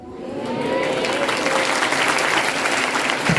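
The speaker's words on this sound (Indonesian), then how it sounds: "Tepuk tangan padahal gak ngerti artinya." A crowd at an Islamic boarding school lecture claps in sustained, dense applause that swells quickly and holds steady at full strength.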